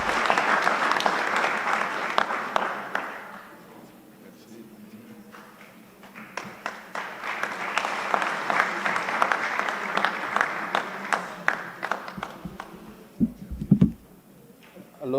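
An audience at a university political science event applauds as a painting is presented. The clapping is heavy at first, fades, then swells again before trailing off into scattered claps and a few knocks near the end.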